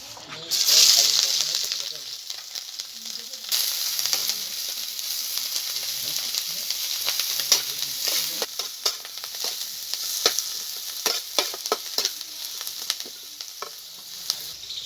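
Chopped onion and green chili fry in white oil for homemade chow mein, giving a steady, close sizzle with occasional stirring scrapes and brief clicks throughout.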